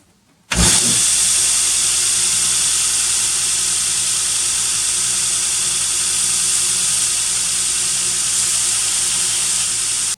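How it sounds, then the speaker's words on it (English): A belt sander with a 120 grit belt rounds the edges of brass rod, starting abruptly and then roaring with a loud, steady hissing grind, close and continuous. "I have a 120 belt on here, and we're just going to take off the sharp edges and round it a little bit"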